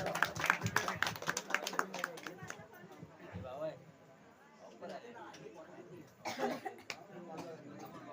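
Audience applause at a village dance show: a burst of scattered, fairly close claps at the start, then mixed chatter and voices as the clapping thins out.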